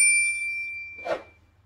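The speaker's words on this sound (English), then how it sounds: "Please hit the notifications bell." A single bright notification-bell ding rings out close and clear, with a short metallic shimmer that fades quickly into near silence.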